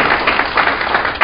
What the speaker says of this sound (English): Will you give me a round of applause?